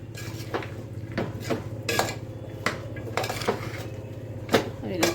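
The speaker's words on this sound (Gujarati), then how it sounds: "આવી રીતે બધું મિક્સ કરી દેવાનું." A spoon stirs vegetable-filled tempered khichdi with spices in a cooking pot, making close, irregular clinks and scrapes against the metal every half second or so.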